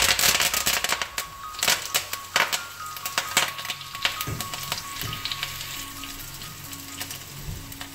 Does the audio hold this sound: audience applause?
no